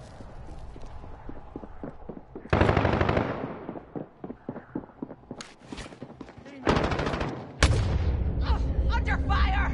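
Gunfire in a military video game, rapid machine-gun bursts and sharp shots mixed with loud blasts, close and intense, with radio-style voices talking throughout.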